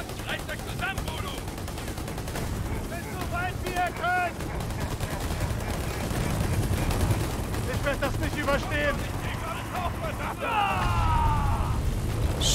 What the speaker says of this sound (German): Alle draufgegangen wie in der Scheiß-Explosion